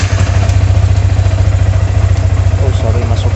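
Motorcycle engine running at a steady idle close by, a loud even low rumble with mechanical clatter, while someone talks over it.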